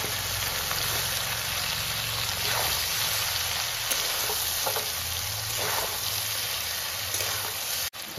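Drumstick flowers and poppy seed curry sauté in a pan with a constant soft sizzle, broken by occasional stirring scrapes and crackles, close and steady throughout.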